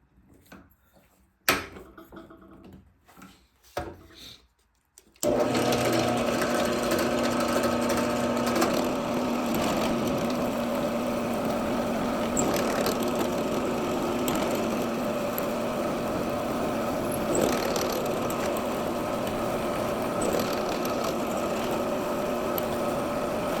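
Electric drill boring holes in wood, with a few handling knocks before a continuous, steady whine that runs close and unbroken for the rest of the clip, no voices.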